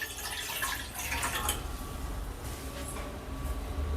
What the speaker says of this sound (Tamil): இப்போ அதுக்கு 1 கப் தண்ணி ஊற்றலாம்.